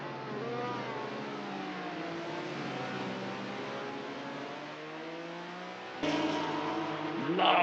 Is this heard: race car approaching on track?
yes